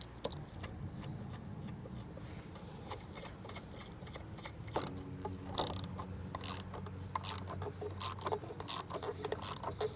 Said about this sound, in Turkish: Ben bunu sıktıkça bu iki disk birbirine ayrılacak ve gördüğünüz gibi kayış gevşedi bile.